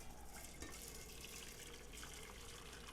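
Water from cooked beets pours out as they are strained, a steady low rushing and splashing like a running tap, faint and continuous without speech.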